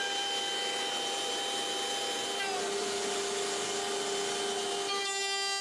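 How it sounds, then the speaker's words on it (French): A router bit cuts grooves inside wooden rings with a continuous high-pitched whine and steady rushing drone, close and unbroken, with a slight shift in tone near the end. "vous pouvez voir comment la fraise descend dans le trou et coupe une grande partie de la rainure sans toucher les bords"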